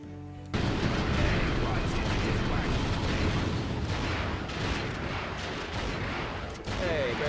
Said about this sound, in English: So he's shooting at the barricade.